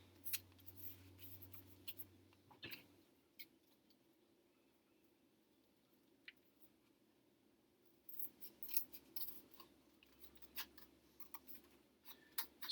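Scissors cutting out a paper dragonfly shape, a few soft close snips and crisp paper rustles, sparse and quiet with pauses between cuts.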